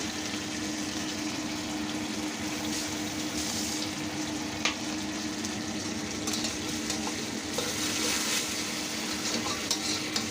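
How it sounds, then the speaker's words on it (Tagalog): Mega sardines sauté and simmer in a pan, a steady close sizzle and bubbling throughout with occasional soft stirring scrapes. "sasangkutsahin muna nating mabuti yung ating sardines bago natin ilagay yung ating okra"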